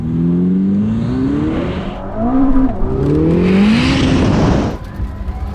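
A Ferrari SF90 or Rimac Nevera hypercar accelerates hard toward a tent, its loud close powertrain rising steadily in pitch through several surges before easing off near the end, with no voices over it.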